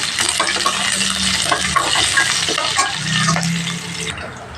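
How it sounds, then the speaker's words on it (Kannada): Curry leaves fry in a pan with a steady, close sizzle, broken by bursts of spoon-stirring scrapes and light metallic taps. There are no voices. "ಕರಿಬೇವಿನ ಸೊಪ್ಪು ಎರಡು ಕಡ್ಡಿ ಅಷ್ಟು ಫ್ರೈ ಮಾಡ್ಕೊಳ್ಳೋಣ ಬ್ರೌನ್ ಕಲರ್ ಬರುವವರೆಗೂ"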